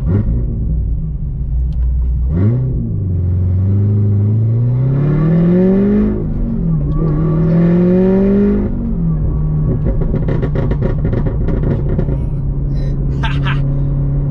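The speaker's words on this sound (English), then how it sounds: "Do you like that? A lot of pops, huh?" A C7 Corvette fitted with a DSC Sport magnetic ride controller rumbles and revs up and down while driving, its engine note rising and falling close to the cabin, with a scatter of sharp exhaust pops and crackles near the end; speech occurs.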